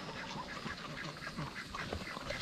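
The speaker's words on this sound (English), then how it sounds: "The ducks are always up in his business." Farm ducks quack repeatedly around a pig pen, a busy run of nearby calls over a steady outdoor background.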